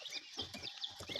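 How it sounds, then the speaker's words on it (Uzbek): Young guinea fowl keets and German hybrid muscovy duck chicks, about ten days old, peep in a brief burst of overlapping high chirps, close and fairly soft. "Manaki sisarka va indoudka jo'jalarimiz."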